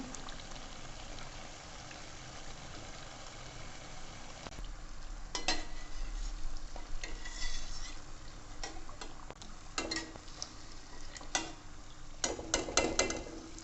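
Jalebi deep-frying in hot oil until brown produces a soft, steady bubbling sizzle close by, broken by occasional utensil clicks and ticks.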